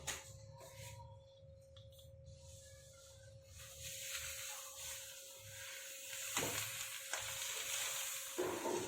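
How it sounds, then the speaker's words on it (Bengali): Fish paturi wrapped in banana leaf sits on a tawa, giving a quiet, fairly steady sizzle that swells toward the end, with faint handling clicks and a thin high tone in the background. "এবার আমি এটা চাটুতে বসিয়ে দিচ্ছি"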